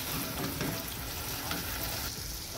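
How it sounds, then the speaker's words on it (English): Eggplant sabzi is stirred in a hot pan, a steady sizzling fry with soft scraping and shuffling from the stirring, fairly close and with no talking. "Mix well."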